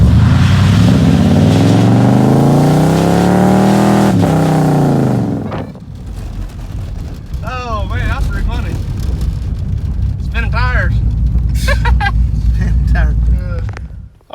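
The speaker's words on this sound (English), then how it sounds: "See if it do a burnout." A third-generation Camaro roars loudly with high, wavering engine revs during a burnout for about five seconds, then drops to a lower rumble while people talk nearby.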